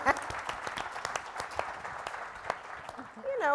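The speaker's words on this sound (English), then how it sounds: "applause." An audience at a town hall panel event claps for a panelist coming up, producing brisk, scattered applause with distinct individual claps. A voice starts speaking as it winds down at the end.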